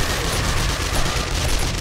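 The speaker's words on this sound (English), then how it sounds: "I mean, two shotgun turrets, so it sounds like the turret didn't get broken." Two shotgun turrets firing nonstop in 7 Days To Die during a huge horde night, a loud, dense wall of overlapping blasts with no gaps.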